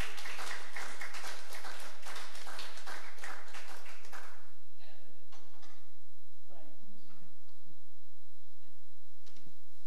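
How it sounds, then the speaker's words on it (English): A burst of church congregation hand clapping during evening worship for about four seconds, then it fades into a quieter room with scattered taps and faint voices. "Give the Lord a big hand clap."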